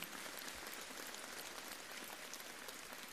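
Sustained applause from an audience at La Grande Motte's 2018 New Year greetings ceremony, welcoming Miss La Grande Motte, a dense, even crackle of many hands throughout.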